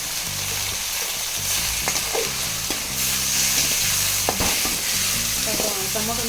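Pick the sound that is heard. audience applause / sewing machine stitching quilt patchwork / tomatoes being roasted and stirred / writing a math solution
tomatoes being roasted and stirred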